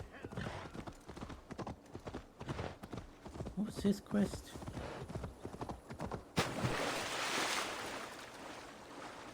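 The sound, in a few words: horse hooves in Assassin's Creed Valhalla video game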